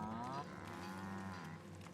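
Cows mooing aboard a spaceship in The Outer Worlds video game, a long, loud, drawn-out bovine low with rising harmonic tones, close and steady, with no talk over it.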